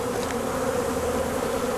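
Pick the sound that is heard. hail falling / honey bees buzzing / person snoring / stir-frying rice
honey bees buzzing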